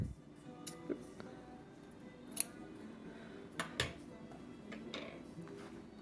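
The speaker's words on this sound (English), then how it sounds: "I'm gonna just snip." Scissors snipping fabric for sewing puppy and kitty ornaments, a few sharp, quiet clicks and snips spaced irregularly over a faint background.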